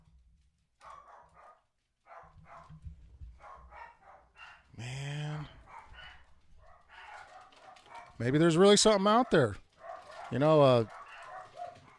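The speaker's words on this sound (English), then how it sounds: "So they're not just boogie barking, they're barking for reals." Someone speaks quietly while dogs bark nearby in loud, repeated bursts, with sharp barks and a drawn-out howl near the end.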